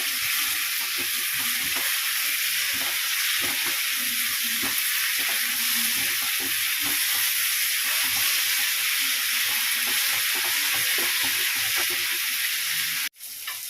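Chopped onion and tomato sauté in a hot pan for an egg curry, a steady close sizzle and hiss running throughout with scattered stirring scrapes, ending in a brief sharp clatter.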